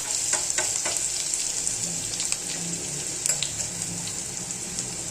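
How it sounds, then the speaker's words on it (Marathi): Crushed garlic and green chili thecha frying in hot oil in a pan, a continuous bright sizzle broken by frequent stirring scrapes, close and steady throughout with no voices. "लसूण मिरचीचा ठेचा चांगला तेलामध्ये परतवून घ्यायचा"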